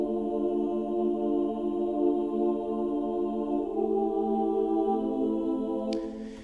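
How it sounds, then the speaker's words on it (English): A female choir sings in a film score, sustained harmonious voices holding long, smooth chords that swell gently at a moderate level, ending with a brief spoken word. "later in the piece we have this B section where we introduce the female choir, which sounds like this"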